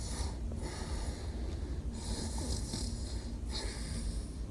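Piglets snore softly in a bunk bed, giving a few rough, snorting breaths at an unhurried pace. The sound is faint and gentle, set against quiet background noise.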